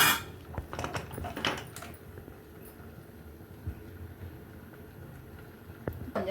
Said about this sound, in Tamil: இப்போ நம்ம குக்கர் மூடியை க்ளோஸ் பண்ணிடுறோம்